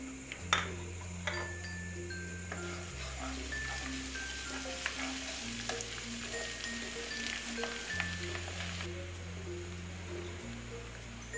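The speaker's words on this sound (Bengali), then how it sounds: "রসুন কুচি দিয়ে দিলাম, তেজপাতা দিয়ে দিলাম, মরিচটাও দিয়ে দিলাম" Garlic, bay leaves and chili sizzle in hot oil for a spicy raw mango pickle, a steady close frying hiss with background music and no talk.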